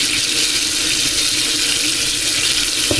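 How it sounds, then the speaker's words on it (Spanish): Tap water gushing steadily into a sink to flush the drain, a loud, continuous close-up hiss and splash with no pauses. "dejaremos correr el agua otros 5 minutos aproximadamente"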